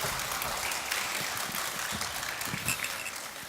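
Audience clapping at a children's composition recital, a steady broadband patter of many hands lasting throughout, moderately loud with no talking over it.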